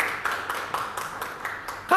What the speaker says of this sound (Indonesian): Beri tepukan Rofina dulu